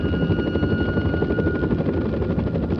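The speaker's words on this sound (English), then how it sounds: "they then heard the familiar sound of helicopters approaching" Several helicopters approach with a steady, loud thudding rotor drone that stays dense and continuous throughout, with no voices over it.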